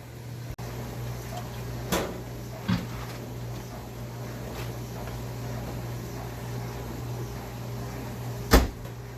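Microwave door opened and shut to rest a smoked turkey, with a few sharp clunks and soft knocks spread over a steady low appliance hum, close by and with no talk.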